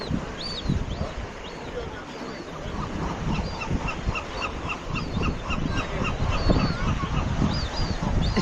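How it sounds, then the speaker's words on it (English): Young seagull fledglings on a hidden stretch of San Diego coastline give repeated thin, high calls over steady surf and wind, with a voice talking now and then. "Just little fledglings of seagulls."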